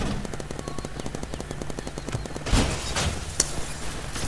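Rapid automatic P90 gunfire in a Roblox paintball-style shooter game, a steady dense stream of shots with a heavier burst of impacts partway through, loud and continuous with no talking.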